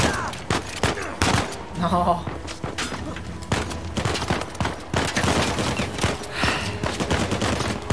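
Gunfire in Uncharted 4 during a jungle fight on hard difficulty: scattered shots and bursts at varying distance, mixed with thuds and footsteps, while someone talks over the action.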